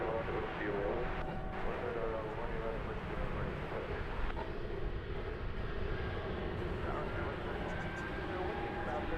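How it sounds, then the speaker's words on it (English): A Delta Airbus A220 airliner on Flight 1065 to Salt Lake City gives a continuous broadband engine roar with a faint whining, growling tone, steady and fairly distant at an airport. "You might be able to hear the Wookiee noise from this Delta Flight 1065 to Salt Lake City."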